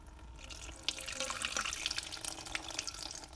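Water trickles and splashes steadily out of the oil filter of a flooded supercharged 347 stroker Mustang GT engine, a close, continuous pour with small drips and no voices.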